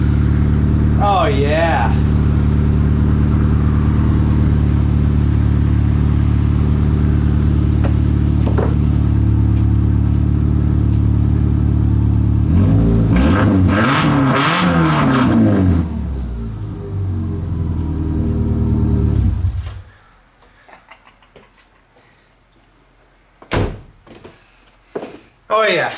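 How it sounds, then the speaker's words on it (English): A Subaru Forester engine idles and warms up with a steady, loud low rumble, briefly revving higher midway before cutting off; a few door thunks and a short spoken exclamation follow near the end. "We'll give her a minute to kind of warm up. I don't want to blow the head gasket, you know, because it's a Subaru."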